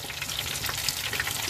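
Seafood deep-frying in crispy batter in hot oil aboard a fishing boat at sea, a dense crackling sizzle with popping bubbles, close and steady with no talk.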